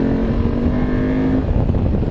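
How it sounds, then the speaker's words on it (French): A BMW F850 GS motorcycle on its stock exhaust rides along, a loud, continuous engine drone with a steady tone that shifts slightly near the end, mixed with wind noise. "la sonorité est sympa pour un échappement d'origine"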